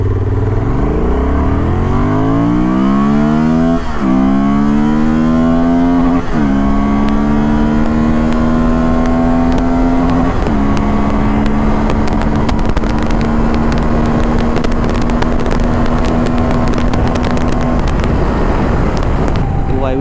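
A Honda Transalp 750 twin-cylinder motorcycle accelerating hard on a highway, its engine climbing in pitch through several gear shifts under steady loud wind roar.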